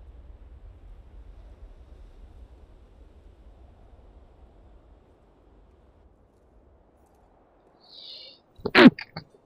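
A single sharp sneeze bursts out near the end, close and loud, after a stretch of faint low rumbling and near silence.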